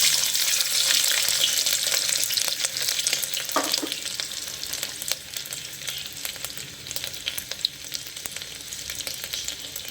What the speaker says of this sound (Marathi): तेल तापले, आता अद्रक आणि लसणाचे तुकडे टाकायचे।